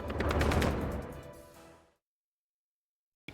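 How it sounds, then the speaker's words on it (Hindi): An artillery cannon firing a shell: one loud, heavy blast that rumbles and fades over about two seconds, then silence. "इसके बाद तुरंत गोले दाग दिए"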